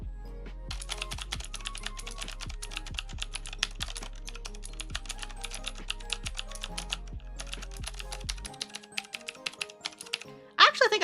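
Rapid typing on a newly bought mechanical keyboard, a dense stream of crisp clicky keystrokes heard up close for several seconds with a steady low hum behind, stopping near the end before a brief louder clatter.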